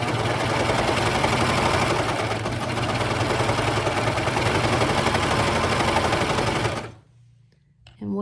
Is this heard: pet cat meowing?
no